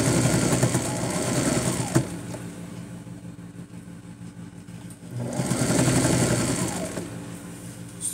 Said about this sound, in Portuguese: Costurando devagar, porque já ficou grosso, né? Porque os dois tecidos já estão unidos e ainda feito as pregas